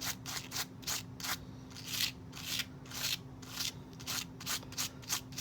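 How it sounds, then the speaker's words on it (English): Rapid back-and-forth scrubbing on Barbie doll clothing to lift off a decal, a steady rhythmic rubbing about two strokes per second, close and moderately quiet, with a faint constant hum underneath. "then we just kind of start scrubbing, and we see if anything comes off"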